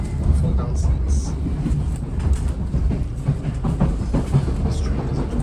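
A Thameslink passenger train running on rails, heard from inside a carriage as a steady loud rumble with faint rhythmic clatter throughout.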